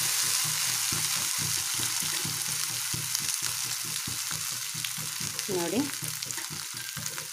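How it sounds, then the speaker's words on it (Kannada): Raw banana slices fry in a pan as asafoetida water and a little cooking oil are added, giving a steady close sizzle broken by rhythmic scraping stir strokes throughout, with one brief spoken word. "ಈಗ ಇಂಗಿನ ನೀರನ್ನು ಸೇರಿಸ್ಕೊಳ್ತಾ ಇದ್ದೀನಿ ಹಾಗೆ ಸ್ವಲ್ಪ ಕುಕ್ಕಿಂಗ್ ಆಯಿಲನ್ನು ಸೇರಿಸ್ಕೊಳ್ತಾ ಇದ್ದೀನಿ"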